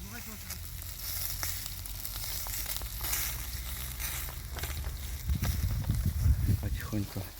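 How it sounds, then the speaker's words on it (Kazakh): Onions frying in a pan at an outdoor cookout in autumn countryside, a steady close sizzle that grows louder and crackles near the end, with people talking nearby. "Қуырылсын лук."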